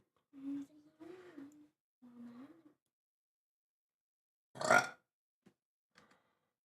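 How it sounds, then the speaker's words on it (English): Someone lets out a huge, loud burp that stands alone after a few quieter vocal sounds. "That huge burp?"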